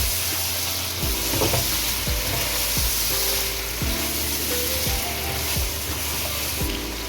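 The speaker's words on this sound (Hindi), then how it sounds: "इसे लहसुन अदरक के साथ भून लें।" Chicken frying with garlic ginger paste in a pan, a loud, steady sizzle close by, broken every second or so by scraping stirs, with no voices.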